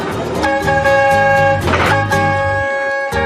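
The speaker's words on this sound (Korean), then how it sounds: "그곳엔 요란한 경적 소리도 어우러져 있습니다." Loud vehicle horns blare near a railway line in Cambodia, where a slow passenger train runs past motorbikes and people crossing the tracks; the honking is close and sustained, with repeated overlapping blasts and no talking.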